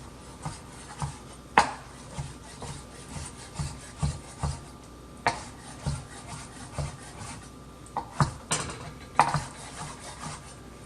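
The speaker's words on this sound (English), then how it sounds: "we're going to go ahead and give these a chop" A knife chops drained canned stewed tomatoes on a board, giving irregular soft thuds and scraping strokes, close and fairly quiet, with no talking.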